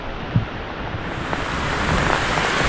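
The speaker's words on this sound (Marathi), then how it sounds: "पाऊस जोरदार आहे" Broad, steady rushing noise like heavy rain pouring outdoors, building slightly louder, mixed with wind buffeting the microphone.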